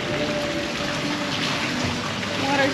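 Hand swishing through swimming pool water at a hotel in Bangkok, a continuous close splashing and rushing wash of water with no pauses.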